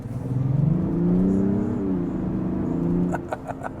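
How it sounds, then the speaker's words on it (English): A Mazda CX-60 with a 3.3-litre straight-six diesel pulls up to speed, its engine note rising in a smooth, truck-like drone close by. A few light clicks follow near the end. "It makes a really good noise. It almost sounds a little bit like a truck, a big truck with a big straight 6 diesel"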